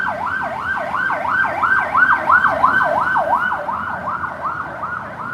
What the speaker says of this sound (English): so you get to see ambulances